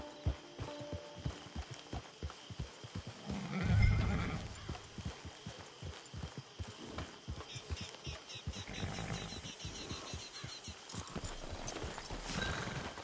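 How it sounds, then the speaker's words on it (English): Horse hooves clip-clop steadily in Red Dead Redemption 2, with a brief whinny near the four-second mark over a low hum of game ambience. "Get your horse."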